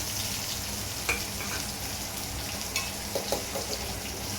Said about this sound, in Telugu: ఇప్పుడైతే ఉల్లిగడ్డలు వేసుకోవాలి